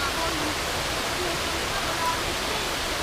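River water rushing at Amatong waterfalls in Sitio Piit, Batangas, a loud, steady broadband roar that stays even and unbroken throughout.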